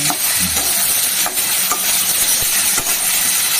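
Loud, steady frying hiss fills a pan of fish roe being fried with salt and oil, with a few faint scraping stirs, heard close and without talk.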